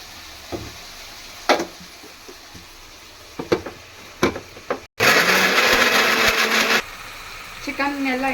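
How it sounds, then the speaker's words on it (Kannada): A kitchen blender grinding coconut and tomato together for a Hyderabad chicken masala whirs loudly for about two seconds after scattered clinks and handling noises, then drops to a lower grinding hum. "ಕಾಯಿ ಮತ್ತೆ ಟೊಮೊಟೊ ಇದೆಯಲ್ಲ ಎರಡೂ ಒಟ್ಟಿಗೆ ಹಾಕಿ ರುಬ್ಕೊಬೇಕು"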